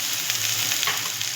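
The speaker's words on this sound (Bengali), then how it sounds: "এবার আমি এই ভাজা নারকেলগুলো দিয়ে দেবো।" Grated coconut fries in a pan on the stove, giving a steady, close sizzle with faint stirring scrapes throughout and no voices.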